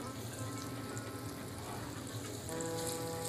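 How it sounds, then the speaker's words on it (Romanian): Thin slices of liver fry in a small pan, giving a steady, dense sizzle with soft crackles, close and constant, with no voices. "Punem ficatul la prăjit."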